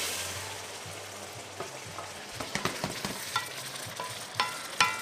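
Broth poured into a pan of zucchini and smoked provola risotto sets off a steady sizzle and bubbling, close and unbroken, with spoon scrapes and clinks from stirring growing sharper toward the end.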